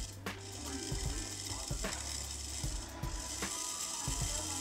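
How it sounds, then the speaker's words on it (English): A small hobby servo motor driven by a servo tester whirs and clicks in short mechanical bursts, ratcheting steps repeating close up over a steady background hum, with no talk. "For testing, I decided to use a simple servo tester. You can get these online for a dollar or two. Plug in 5 volts and test it out."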